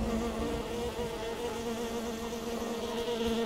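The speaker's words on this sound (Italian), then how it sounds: "Le api però, raga, via dalle api." Bees buzz in the fantasy role-playing video game Enderal, a steady, close insect drone with a constant hum that persists throughout, with no speech.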